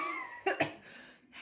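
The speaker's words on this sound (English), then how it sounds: "You're coughing a lot also." A person coughs twice in quick succession, close and fairly loud, with a throat-clearing rasp, from breathing heavy outdoor smoke in Varanasi, India; faint breathy sounds follow.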